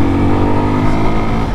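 Engine of a 2021 Suzuki Gixxer SF 250 BS6 sport-touring motorcycle, heard as a loud, steady, close-up drone with a rough, dense tone throughout.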